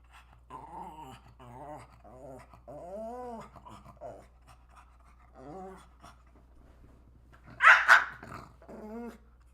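A dog growls in low, drawn-out grumbles and pants between them, then lets out one sharp, loud bark near the end, heard close and alone over a faint steady hum.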